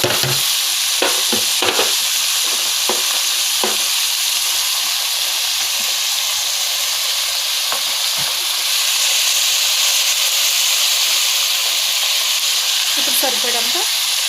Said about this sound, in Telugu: కొంచెం వేగిన తర్వాత ముందుగా తరిగి పెట్టుకున్నటువంటి దోసకాయ టమాటా ఇందులో వేసేద్దామండి